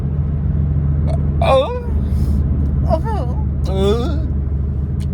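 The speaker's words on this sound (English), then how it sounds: "That's how I burp now." A person burps three times, each a short, voiced, wavering belch close by, spread over a few seconds against a low steady hum.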